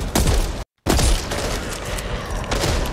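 Rapid, loud gunfire from the co-op zombie shooter Back 4 Blood on Xbox Series X, dense overlapping shots with booming impacts, broken by a brief moment of silence before the barrage resumes.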